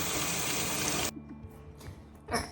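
Tap water runs loudly into a sink while nasturtium leaves and radish greens are washed, a close, steady hiss that stops abruptly, followed by faint handling clatter and a brief splash.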